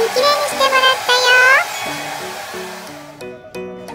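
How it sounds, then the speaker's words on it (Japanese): A hair dryer blows steadily at close range, its broad rushing noise continuing throughout while a voice speaks over it. "ドライヤー自分で頑張ってる。"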